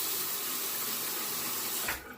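Water runs steadily from a bathroom tap in a continuous hiss while a razor is wetted, then the flow stops abruptly near the end.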